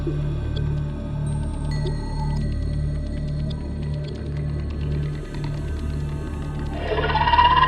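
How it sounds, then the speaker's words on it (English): A low, droning underwater ambience with a pulsing hum in the game Subnautica, then a rising, warbling crab squid call swells in near the end. "That was the sound of a crab squid nearby."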